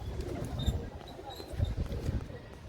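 Pigeons coo softly nearby in short, repeated low calls, mixed with rustling and a person talking.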